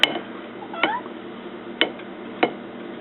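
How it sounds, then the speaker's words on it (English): A cat meows a few times in a home kitchen during cooking, short separate calls spread across a few seconds over faint room noise, with no talking. "ignoring any mischievous kitties"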